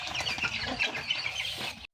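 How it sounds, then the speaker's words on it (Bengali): Aseel chickens, parent breeding stock, clucking and calling together in a steady busy chorus, fairly close, with no talk, ending abruptly. "এগুলো হচ্ছে আমার আসিল মুরগির প্যারেন্টস"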